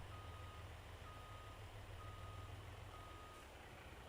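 A storage truck in a farming video game reversing, sounding a steady string of evenly spaced electronic beeps. The beeps are faint over a constant low engine hum.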